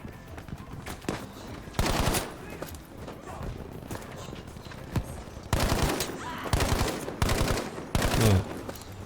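Breda PG 1935 gunfire in Battlefield 5 rings out as loud repeated bursts of rapid shots, several clusters spaced a second or two apart, punctuated by scattered single cracks.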